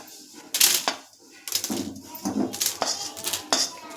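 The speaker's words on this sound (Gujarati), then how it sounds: "અને હવે જે આ કેરેમલ બદામ છે તેને હવે આપણે બટર પેપર પર લઈ લેશું" Caramel-coated almonds scraped and tipped onto butter paper, giving a run of sharp clinks and scrapes of a spoon against a pan, close and fairly loud, in irregular bursts with short pauses between.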